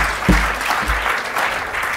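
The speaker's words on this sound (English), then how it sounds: "Give one more round of applause," An audience at a conference panel applauds steadily for a couple of seconds, a dense wash of clapping from a crowd with no voices over it.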